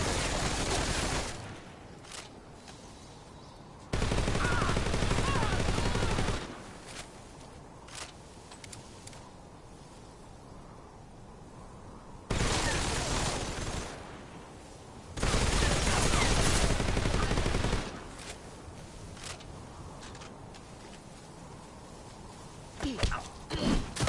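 AK rifle gunfire in Metal Gear Solid Delta comes in loud bursts of several seconds each, separated by quieter gaps with scattered single shots and thuds, ending with a few sharp cracks.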